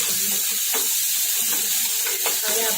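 Green garlic, ginger and green chillies sauté with asafoetida in a pan for batata vada. The hot oil gives a steady, close sizzle, broken now and then by soft stirring scrapes.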